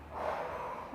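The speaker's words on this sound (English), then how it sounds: "Taking a big inhale and big exhale." A single long, breathy inhale sounds close to the microphone during a cool-down stretch after a resistance band home workout, steady and airy for about a second with no talking.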